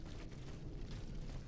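An explosion in the video game In Her Majesty's Name rumbles as a dense, steady roar of low, noisy energy that holds loud and even for the whole moment, with no talk over it.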